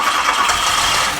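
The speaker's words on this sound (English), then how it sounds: "We just wanna see if she'll pop, make some noise just for fun." The 1985 VW Golf Wolfsburg Edition barn find engine catches on starting fluid, giving a loud, steady, close roar with no talking.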